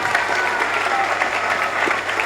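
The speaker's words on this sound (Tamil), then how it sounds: "எல்லாரும் ஒரு உற்சாக கைத்தட்டோடு சார் வந்து வெல்கம் பண்ணலாம்." Loud, dense audience applause fills an education consultancy event hall, a steady wash of many hands clapping without a break from start to finish.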